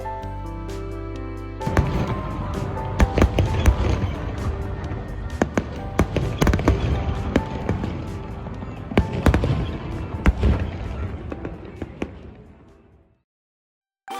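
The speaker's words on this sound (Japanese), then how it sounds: "ホバートのカウントダウンフェスティバルの花火を見ながら" Countdown festival fireworks over Hobart burst in a rapid, irregular barrage of booms and crackles, loud and echoing, before falling silent near the end.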